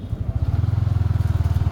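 An old motorcycle engine idles close by in a fast, even thumping pulse that settles into a steady rhythm after a brief ragged start, heard alone without talk.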